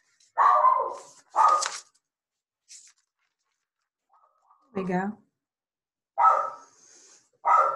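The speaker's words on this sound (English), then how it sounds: "Sorry about the dog. She's a barker." A dog barks in short separate bursts around a room, several sharp barks with a whimper between them, and a person speaks briefly.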